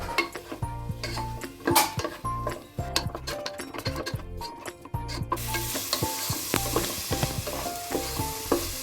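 Crushed pineapple being stirred and sautéed in a pan, with repeated scraping strokes of a utensil, clinks against the metal and a steady sizzle that grows fuller toward the end, close and loud.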